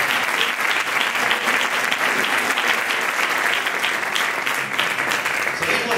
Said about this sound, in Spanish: Un fuerte aplauso para Dani Urbano.